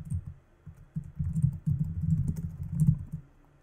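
Someone types the Milla setup command on a computer keyboard: a quick, close run of clicking keystrokes in short uneven bursts.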